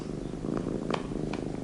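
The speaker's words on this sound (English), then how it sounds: "He's purring." A kitten purrs softly and continuously close by, a low, even rumble with a few faint small clicks on top.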